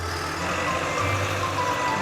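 A cartoon construction dump truck backing up, with steady repeated reversing beeps over a low engine rumble, loud and continuous throughout.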